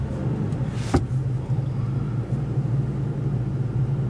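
A 2020 Toyota Tacoma engine starts with a brief burst around the first second, then settles into a steady, loud low idle rumble that continues to the end.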